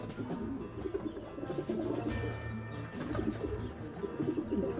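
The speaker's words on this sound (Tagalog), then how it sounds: "ang pag-wrestling ng dalawang kalapati" Two pigeons scuffle close by, with repeated low coos and rustling wing flaps mixed with soft chirps, continuous and fairly near.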